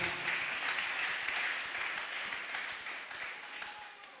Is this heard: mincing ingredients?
no